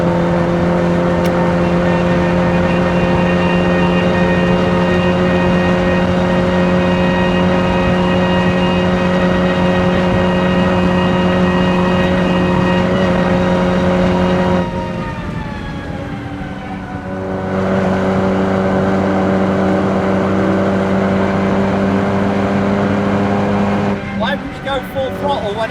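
Toyota Supra at full throttle on the Nurburgring, a loud steady engine drone with strong harmonics that briefly drops off before picking up again, with talk over it.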